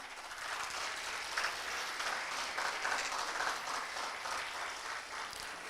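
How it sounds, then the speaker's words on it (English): Continuous audience applause at the Pragati 2024 event, a Medhavi Skills University and Counsel India collaboration, with dense, steady clapping from a sizable crowd lasting several seconds. "one big clap for the Counsel India team."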